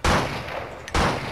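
Gunfire in the video game Blood & Bacon: two sharp, loud blasts in quick succession, each with a short decaying tail, close and alone.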